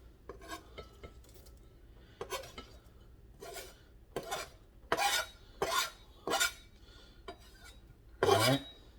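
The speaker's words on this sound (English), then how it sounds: "we're going to add the kimchi" Kimchi tipped into a bowl of canned tomatoes and stirred with a utensil, giving a run of separate scraping, clinking strokes against the bowl, close and moderately loud, with no voices.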